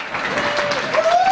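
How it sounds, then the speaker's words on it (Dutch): An audience at a dance event applauds with dense, steady clapping as a crowd cheers, while a voice rises briefly over it. "Ja, ja, eerst het applaus."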